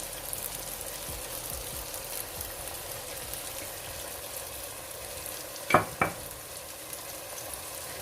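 Spices being stirred into a pot of cauliflower and meat (gobi gosht), a soft continuous sizzle with a couple of sharp spoon scrapes near the end, no voices.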